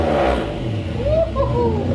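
A Mitsubishi Pajero with a newly fitted turbo, exhaust dumping at the front diff, revs loudly up close in a brief continuous roar with rising and falling pitch.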